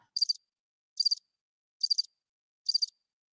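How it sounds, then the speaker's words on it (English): Crickets chirping in four evenly spaced, short pulsed bursts against complete silence, a crisp and clean sound-effect style insect trill. "all you hear is, you know, crickets"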